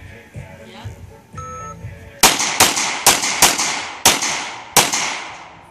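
Seven sharp gunshots ring out in quick succession during a timed shooting drill, loud and close with short echoing tails, after a brief beep and a moment of quieter background.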